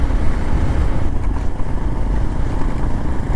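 A motorcycle engine pulls in fifth gear up a rough hill road on a Sajek to Dhaka ride, giving a steady, loud, close drone with wind rush that holds level throughout.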